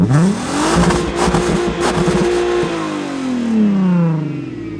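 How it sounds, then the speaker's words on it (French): A Volkswagen Golf R32 V6 engine revs up loudly, holds a high, rough pitch, then drops and revs again, close and sustained. "On va écouter le chant du V6."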